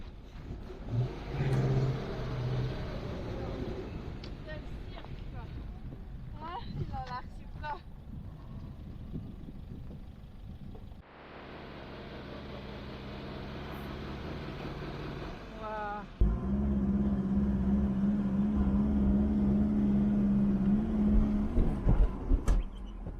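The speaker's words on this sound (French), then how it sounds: "J'essaye de l'aider au maximum, mais je n'arrive pas à gérer la puissance de notre camion" A truck stuck in the ground in Kyrgyzstan revs hard in repeated bursts as it tries to pull free, the engine droning loud and close with wind noise and people talking over it.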